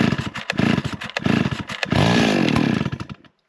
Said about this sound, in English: Now we're going to start the chainsaw.